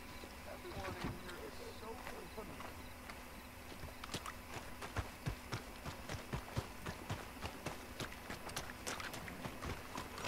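Horse hooves clip-clopping in the open-world Western game Red Dead Redemption II, a steady quiet trotting rhythm of sharp clicks over faint background ambience.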